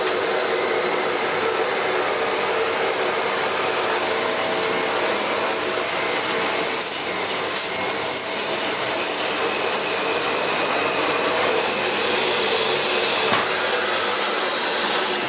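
A 2015 Dyson DC75 Big Ball vacuum cleaner running continuously, a loud, steady high-pitched whooshing whine that holds level throughout, with no talking.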